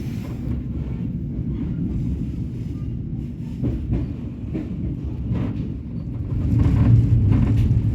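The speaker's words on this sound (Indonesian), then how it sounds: "Kereta api Joglo Semarkerto merapat di stasiun Semarang Tawang" The Joglosemarkerto passenger train pulls into Semarang Tawang station with a low, steady rumble of rolling wheels and faint clatter. The sound builds slightly toward the end.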